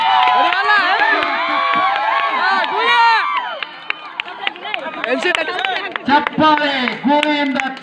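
At a village kabaddi match between Kalakeri and Obalapur, a crowd claps and cheers in scattered bursts, mostly under a loud commentator's voice, with the clapping clearer in the second half.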